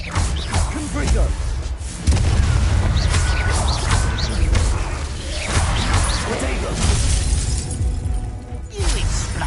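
Confringo fire blast spells in Hogwarts Legacy combat, bursting in shattering crashes and whooshing booms amid busy battle noise, with voices speaking over the fighting.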